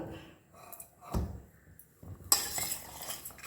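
Mushrooms being mixed with salt in a pan, with a few close, quiet scrapes and clinks of a spoon against metal and a brighter clatter near the end, alone without talk.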